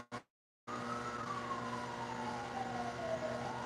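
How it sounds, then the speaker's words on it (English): After a brief cut of silence, an emergency vehicle siren wails in the background, its tone sliding slowly downward over a low steady hum. "I hear the sirens in the back."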